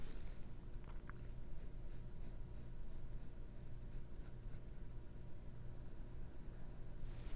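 A pen scratches across paper while drawing Kirby's rounded triangle mouth, a close, continuous scribbling texture with short rhythmic strokes and no voice over it.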